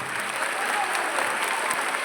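An audience at a magic show claps in dense, continuous applause, loud and sustained for the whole stretch.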